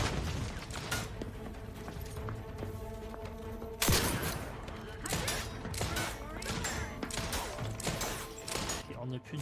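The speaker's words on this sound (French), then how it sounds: "Une grenade." A grenade goes off in Outer Worlds 2 as one sudden, sharp blast midway, set against constant busy game noise and scattered gunfire.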